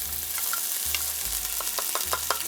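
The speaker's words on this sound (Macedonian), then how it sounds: "Ке го ставиме прво кромидот да го запршиме." Onion frying in oil in a pot, a continuous close sizzle with scattered pops and a low hum underneath, no voices.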